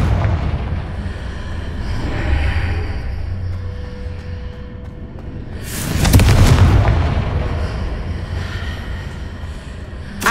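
Confringo spell explosions in Hogwarts Legacy: a low rumbling backdrop builds to one loud, broad blast about midway, which decays slowly into a steady drone before a brief hit at the close.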